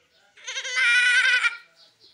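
A voice mimics a mother goat bleating: one sustained, quavering bleat lasting roughly a second, close to the microphone and moderately loud, with quiet surroundings before and after.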